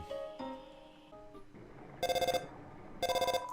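Phone ringing in the video game Undertale, with two short bursts of a bright electronic chiming ring following some other game tones and blips.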